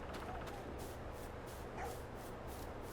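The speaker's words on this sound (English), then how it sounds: "Don't mind the dog." A dog gives short yips and barks beside a large field in the countryside, fairly distant and partly buried under steady wind-like rumble, with some voices talking over it.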